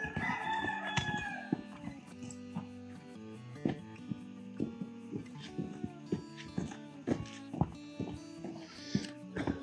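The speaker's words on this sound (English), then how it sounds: "And the roosters that make all the noise that we need to eat." Roosters on a horse farm crow repeatedly among clucking fowl, loud and close in a busy barnyard with steady low background noise and no talk.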